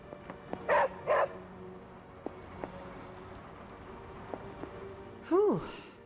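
Two short dog barks ring out close together near the start in the Marvel's Midnight Suns video game, with a voice speaking afterward and faint ambient game sounds around them.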